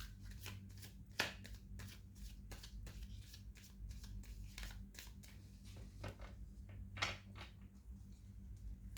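Tarot cards shuffled and drawn from a deck, a quiet series of crisp riffling flicks and soft card slaps in an irregular rhythm, close up with no talking.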